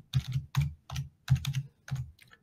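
A mobile number is typed on a computer keyboard: six or seven crisp, close key clacks in an uneven rhythm over about two seconds, with no speech.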